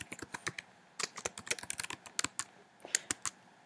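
Typing on a MacBook keyboard: quick, crisp key clicks in irregular bursts, close and clear, with short pauses between runs and no voices.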